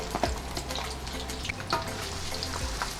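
Chili and shallots fry in 100 ml of oil in a hot wok, giving a steady, moderately quiet sizzle with occasional stirring scrapes and no talking.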